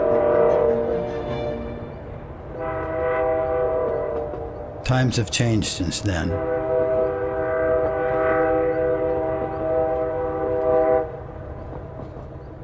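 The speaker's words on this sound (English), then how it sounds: "we've been on the slow train" A slow green passenger train runs through Daliangshan, China, with a steady rumble and a brief loud horn blast midway, while a person speaks over it.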